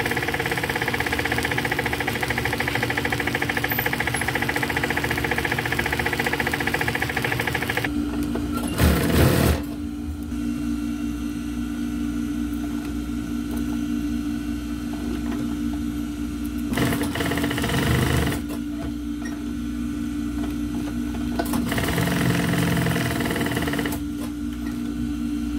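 A sewing machine runs steadily at close range while someone is taught to sew, a continuous mechanical whir with a low hum and brief louder bursts of stitching, then it slows and quiets near the end.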